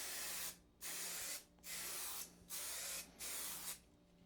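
Spray paint is applied to a custom Mazda Miata door panel in four or five short, close, hissing bursts with brief pauses between them.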